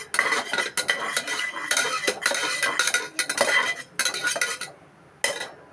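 Spices with cardamom sautéing for veg biryani as a metal spoon stirs and scrapes the pan in loud bursts, with a short pause near the end, close and with no talking.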